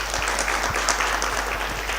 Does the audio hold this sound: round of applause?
yes